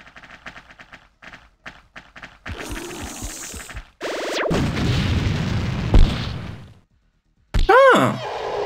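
Explosions in the video game X-COM: Apocalypse boom and crackle amid bursts of gunfire and a rising whistle, loud and close, with a voice speaking between the blasts.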